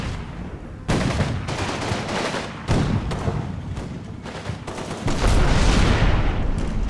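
Heavy gunfire and thudding impacts roll across a Combat Mission battlefield as a hit tank pops smoke grenades, with dense overlapping bursts and booms in several sharp onsets, loud and continuous.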